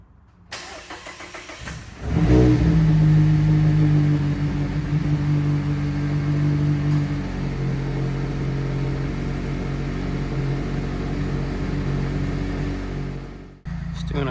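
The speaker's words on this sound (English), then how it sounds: "Doing a quick before and after for the sound of the HKS Sport exhaust" A Mazda Miata ND2 with an Edelbrock supercharger and an HKS Sport exhaust cranks and fires up, then settles into a loud, steady, droning idle close by, with a deep exhaust rumble before cutting off.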